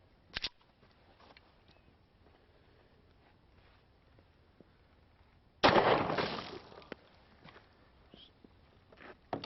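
A handgun loaded with Speer Gold Dot ammunition fires a single loud, sharp shot outdoors into milk jugs, with a long decaying echo, set among quiet stretches of faint shuffling and small clicks.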